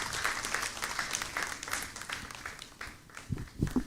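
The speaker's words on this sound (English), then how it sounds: "Please, with a round of applause," An audience at a financial dialogue event applauds steadily, a dense wash of many hands clapping at moderate distance throughout.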